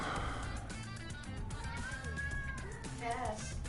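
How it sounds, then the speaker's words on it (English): Pet cat, a mouthy young male, meowing in the background of a home, a drawn-out rising and falling meow near the middle and a shorter cry near the end, faint under game noise and talk. "if you hear a cat going off, that's our boy Cass"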